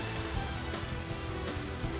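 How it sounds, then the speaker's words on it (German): Steady rain pours in Baten Kaitos Origins, a dense, even hiss that runs throughout with faint tonal game music beneath and no voices. "So, darf es jetzt mal aufhören zu regnen?"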